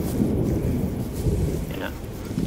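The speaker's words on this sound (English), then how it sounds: "And a nice thunderstorm to make it more interesting." Thunderstorm in the hunting game The Hunter: Call of the Wild, a steady rumbling roar of thunder and rain heard from a high mountain vista, dense and moderately loud throughout without speech.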